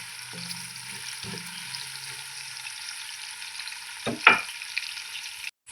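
Beef curry ingredients fry in oil in a pan until golden, giving a steady close sizzle with a few louder stirring scrapes near the end and no talking.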